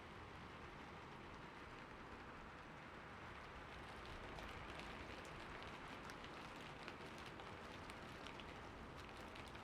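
Steady rain falls on surfaces in a continuous soft hiss with scattered patter of drops, even and unbroken, fairly quiet and heard alone.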